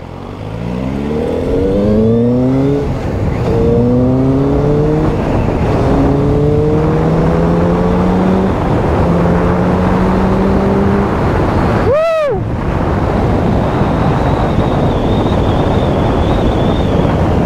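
A QJ Motor SRK 600RR sport bike accelerates hard through several rising gear changes under heavy wind rush, then a fast vehicle whooshes closely past before the engine settles into a steady cruise.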